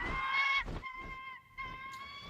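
A cartoon bird honks loudly in harsh, nasal goose-like bursts, two or three close calls with a brief gap between them and no voices.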